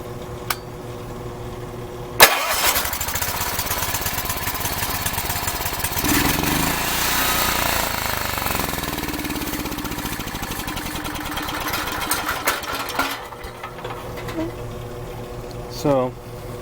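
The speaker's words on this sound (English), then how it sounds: "I got fuel in there. Let's start it up." Makita G4101R generator with a Robin Subaru engine pulled into life after a sharp start, then running at a steady loud engine drone for most of the clip before cutting back near the end, with a voice heard briefly.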